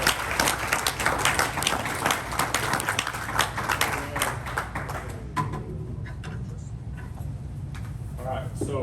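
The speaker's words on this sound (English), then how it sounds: "Please give them a round of applause." A club meeting audience breaks into a round of applause, dense crisp clapping that thins and fades after several seconds while voices start talking underneath.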